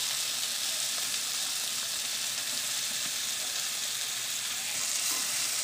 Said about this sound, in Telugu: ఒక 2 నిమిషాలు మనం బీరకాయ ముక్కలను కూడా మనం వేయించుకుందాం